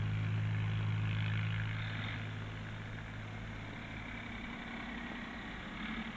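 A Ford Dexter 2000 three-cylinder, short-stroke, big-bore diesel tractor engine runs steadily, with a low, even throb that eases slightly in loudness and continues on its own without speech.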